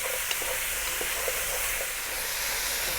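Vegetable biryani sizzling steadily in a pan over high heat, a constant bright frying hiss with faint scraping ticks from near-continuous stirring.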